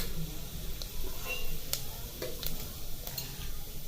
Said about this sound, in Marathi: मोहरी तडतडल्यानंतर ना त्याच्यामध्ये एक चमचा जिरं घालून घ्यायचे